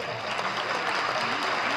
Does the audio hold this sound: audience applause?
yes